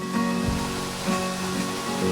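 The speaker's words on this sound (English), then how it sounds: "The waterfall is about 40 feet high and falls from the stream above over a bed of rocks." Soormane Falls, a waterfall about 40 feet high dropping from a stream over a bed of rocks amid lush greenery, heard as a steady broadband roar of falling water, continuous and moderately loud with no voices.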